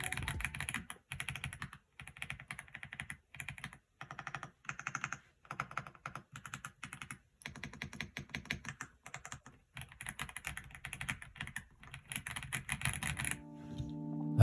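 Steady mechanical keyboard typing on Leopard Reaper switches, quick clacky keystrokes in bursts with short pauses, close and clear with no voices.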